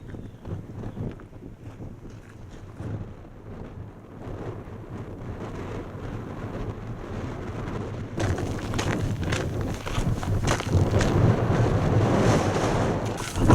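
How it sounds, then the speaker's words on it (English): Wind gusts across the exposed moorland top of Kinder Scout in the Peak District, a loud rough buffeting roar on the microphone that builds and grows harsher in the second half. "the wind up here on Kinder Scout is carrying quite a chill."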